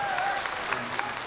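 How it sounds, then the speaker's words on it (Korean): Applause from an elderly audience at an entrance and opening ceremony celebration performance for a senior citizens' college, a short steady wash of clapping with no talk over it. "박수 한번 크게 주시고 응원 많이 해주시고요."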